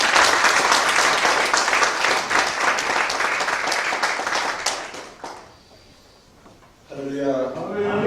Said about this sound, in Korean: 오늘 총회장님 나오실 때 뜨거운 박수로 우리 축복하도록 하겠습니다